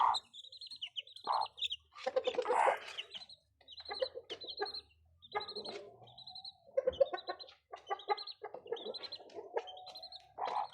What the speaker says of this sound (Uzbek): Ana bu bo'lsa xo'rozni bolalarni chiqardik.